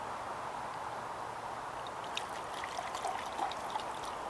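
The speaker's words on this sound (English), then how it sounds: "put in the water for our coffee" Water trickles steadily into a metal cup for coffee in a flameless bushcraft cooking system, a soft, continuous pour with faint splashy gurgles near the end.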